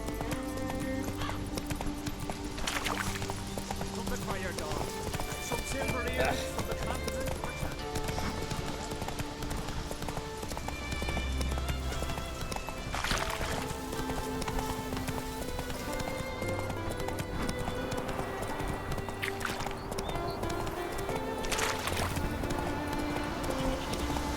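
Galloping hooves of the horse Roach in The Witcher 3, rapid steady clip-clop running continuously for a long stretch with occasional whinnies, wind and ambient game music beneath.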